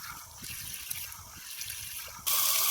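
Water pours from a tubewell with its motor running, a continuous hissing rush with small splashes. It swells abruptly louder and brighter in the final moment.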